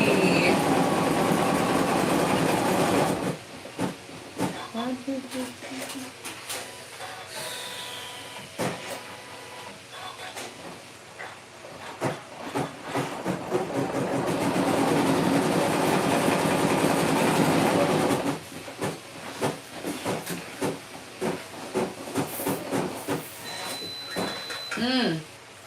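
Embroidery machine stitching felt, a fast rhythmic mechanical chatter running steadily for long stretches, stopping and starting, close and fairly loud, with a person talking in between.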